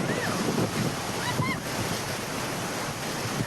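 A swollen, flooded river in Rajouri after heavy rain rushes in a loud, steady broadband roar, with wind buffeting the microphone throughout and no voices.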